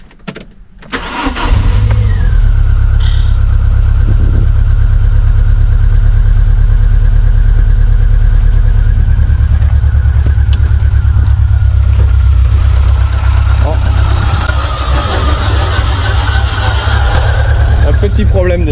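A Renault Clio RS with a three-cylinder fault idles loudly and roughly up close, goes quiet, then cranks and fires back into a steady, uneven idle that runs to the end; a voice speaks briefly over it.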